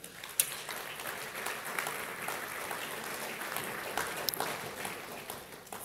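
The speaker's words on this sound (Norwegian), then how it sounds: "Jeg synes vi gir dem en god applaus." A church congregation applauds the worship team, a fairly soft, even wash of clapping from a seated crowd in a hall, with a few brighter claps standing out near the start and middle.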